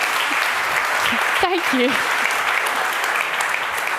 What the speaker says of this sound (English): so can you give him a round of applause for that,